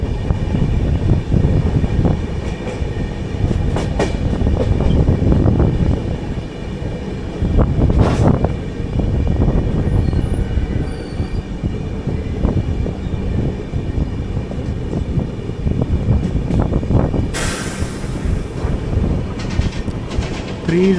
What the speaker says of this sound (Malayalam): അതുവഴി ഏതൊരു ട്രെയിൻ പാർന്നടിച്ച് വരുന്നുണ്ടല്ലോ